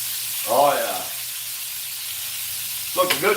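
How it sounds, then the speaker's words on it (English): Steady sizzling of a hen of the woods mushroom frying in a pan, with a broad hiss throughout and a couple of brief voice bursts on top. "You guys hear that thing frying up?"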